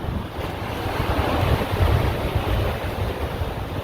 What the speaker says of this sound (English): sitting here by the beach, listening to the waves, hearing the tarp above me flapping the wind